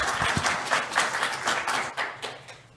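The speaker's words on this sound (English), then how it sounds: "I hope you'll still be clapping at the end of my presentation" An audience at an academic presentation on teacher identity applauds steadily, a full room of clapping hands heard close and loud, with a few sharper individual claps standing out near the start.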